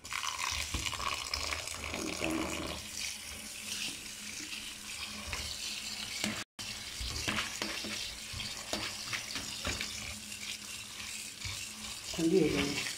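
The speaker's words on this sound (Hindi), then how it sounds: "अब इसमें ठंडा पानी डालेंगे ऊपर।" Cold water running and splashing over freshly boiled, drained noodles in a home kitchen, a steady close tap-like gush with sloshing and clinks, continuous for about thirteen seconds with a brief break midway and a louder splash near the end.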